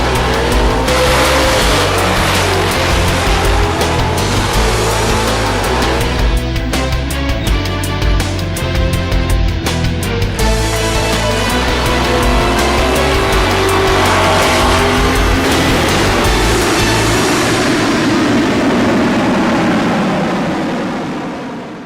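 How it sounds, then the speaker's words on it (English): Race cars roar down the strip at the CarCraft Midnight Drags drag race, a loud, continuous engine din with tire squeal mixed in, fading slightly near the end. "This is the CarCraft Midnight Drags, which is a car"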